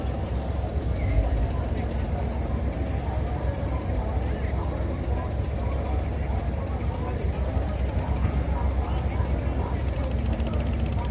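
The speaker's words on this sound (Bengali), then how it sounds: "একটা লঞ্চ আসতেছে" A passenger launch on the wide Padma river in Bangladesh chugs past with a steady engine drone and water wash, loud and continuous throughout, with no break in the rumble.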